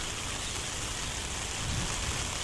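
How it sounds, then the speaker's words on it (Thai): Light rain falls steadily in the early morning, a soft, even hiss with no other sounds and no talking. "ฝนตกรินริน"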